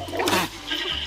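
A short toilet flush rushes and gurgles close by, surging quickly then trailing off into a softer hiss of refilling water.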